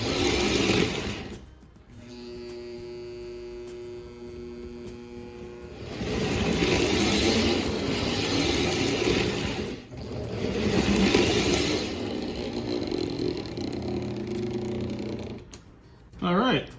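Motor of a postwar Lionel 746 Norfolk & Western Northern toy steam locomotive running on test after service, with its smoke unit and E-unit working, giving a steady mechanical whir and hum that rises and falls between pauses.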